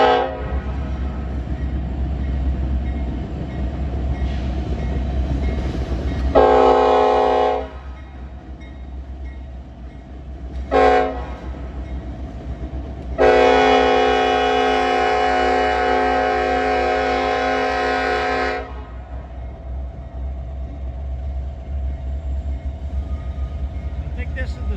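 A Norfolk Southern double-stack freight train rumbles past in Princeton, Indiana. Its horn sounds three times, two short blasts and then one long one of about five seconds, loud over the steady rolling of the cars.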